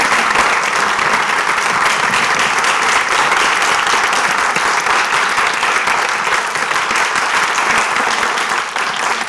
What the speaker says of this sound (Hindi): तो आप सब लोग इनके लिए ताली बजाइए।